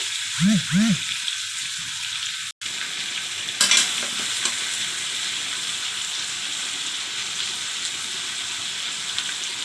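Pieces of papaya frying in a pan and being stirred, a continuous near sizzle with scraping stir strokes and a brief clatter, some low sounds and faint voice early on.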